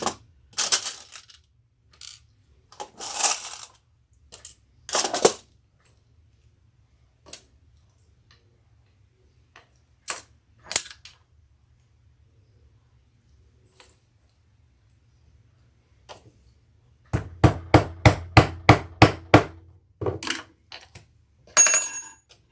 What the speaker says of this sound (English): we're going to put another rivet right in there